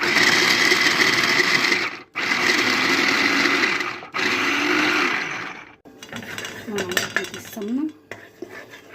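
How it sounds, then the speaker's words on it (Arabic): An electric chopper whirs loudly at close range as it chops onion and garlic, running in three sustained bursts separated by short pauses, followed by softer clattering of the bowl and blade. "حطيت البصل والثوم في الكبه، هعملهم في الكبه بقى المره دي"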